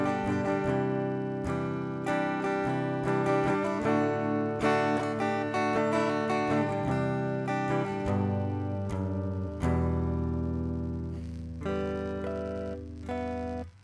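Electric guitar with a White Whale pedal plugged straight into a mixer with custom EQ, playing clean, bright chords and single notes in a steady rhythm with ringing sustain, alone and without talk.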